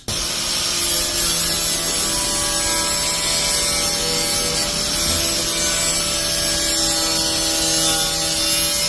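A grinder works steadily on the metal bed of an Olds S-10 truck before welding, a loud, continuous close-up whine and rasp with sustained tones that barely waver.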